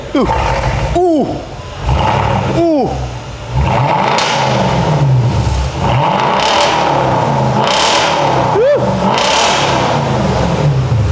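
A small car fitted with a V8 engine and an aftermarket valved exhaust revs hard nearby, with repeated loud rising blips and a deep, rumbling roar between them.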